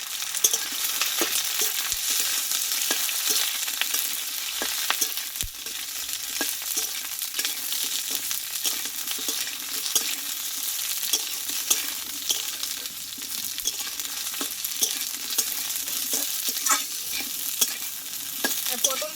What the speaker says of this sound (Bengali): এবার পটলটা আমি আগে একটু তেলে কষে নেব